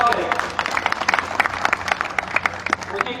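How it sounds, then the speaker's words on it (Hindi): An audience at a village campaign gathering for a BJP candidate breaks into dense, continuous clapping, a steady patter of many hands throughout. "एक बार तालियां बजाकर स्वागत करें"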